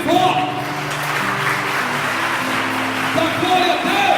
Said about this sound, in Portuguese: aplauda Jesus bem forte